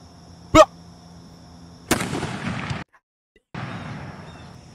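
A historic firearm fired during a demonstration: a sharp, loud report near the start, then a harsher blast followed by rough noisy trailing sound, a short silence, and more broad noise.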